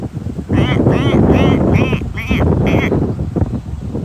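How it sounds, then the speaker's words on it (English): A flock of geese calls in a rapid run of about six nasal honks, loud and close, with a rough, breathy texture, followed by quieter scattered calls. "It's a goose."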